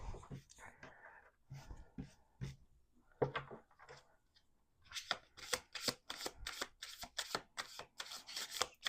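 A deck of tarot-style cards is shuffled close by, with soft slips and taps at first under quiet murmuring, then a quick run of crisp riffling flicks in rapid bursts.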